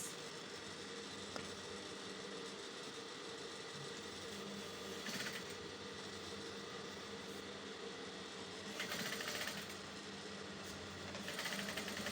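A sewing machine hemming a blouse runs continuously with a fast, even mechanical whir, steady and fairly loud, with a few brief swells in intensity.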